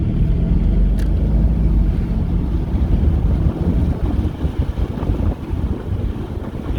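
A 2013 Mercedes SL550 Bi-Turbo drives at speed, its engine and road noise a steady low rumble with heavy wind buffeting, fairly loud throughout and easing slightly toward the end.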